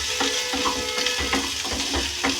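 Bhindi (okra) fries in a pan with a steady, close sizzle, while a spatula scrapes and stirs in a loose, repeating rhythm.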